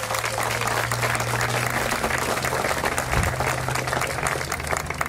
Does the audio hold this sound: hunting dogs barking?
no